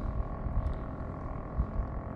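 A motorboat engine on the lake at Turawa during a fishing outing gives a low, steady drone with faint rumbling swells and no voices over it.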